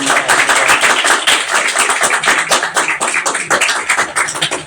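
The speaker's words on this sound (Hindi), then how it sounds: "तालियां बजा दो" Clapping from a student audience at a Teachers' Day celebration honouring a top scorer, loud close uneven claps with bursts and slight pauses, no talking over it.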